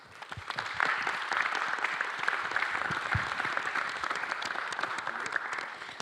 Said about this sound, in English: I would like to ask you all for a big round of applause for the panelists.